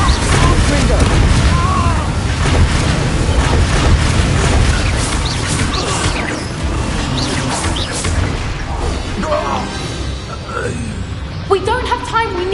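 Confringo blasting curse explosions in Hogwarts Legacy, rumbling booms and crashes within a noisy battle, with game voices talking over the din across the stretch.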